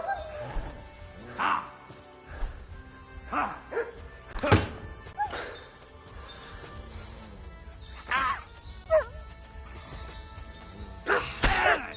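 A dog in the video game Kingdom Come barks, yips and whimpers in scattered close bursts, mixed with whacks and thuds from a scuffle.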